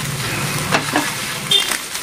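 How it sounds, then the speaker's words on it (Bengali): A spatula breaks up scrambled egg in hot oil, giving a close sizzle with a couple of quick scraping stirs. "এবার খুন্তি দিয়ে এরকমভাবে ভেঙে নেব।"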